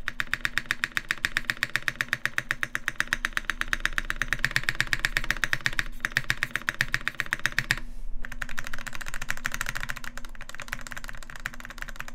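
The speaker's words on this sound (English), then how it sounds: "This is a loud spacebar." Rapid, steady clacking of keys and a loud spacebar on a Leaf80 mechanical keyboard, loud and close, with a short pause before the tapping resumes.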